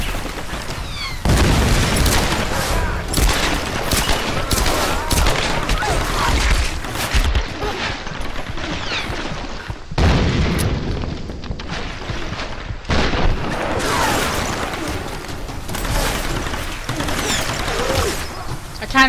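Weapons fire over and over in Tomb Raider Definitive Edition, a loud, dense barrage of shots and booms with crashing impacts and a few short gaps.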